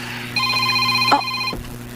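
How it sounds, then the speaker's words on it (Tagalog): A mobile phone rings with a steady electronic tone that sounds for about a second, then cuts off, over a low background hum. "May nanawag na sad."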